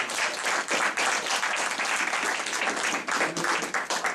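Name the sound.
audience applause for Mr. Hanna's comments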